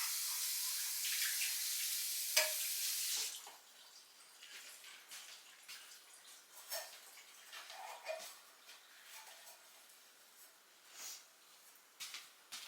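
Tap water runs into a sink while a measuring cup is washed. A steady, hissing stream plays for about three seconds, then drops to a quieter trickle with light splashes and clinks as the cup is rinsed.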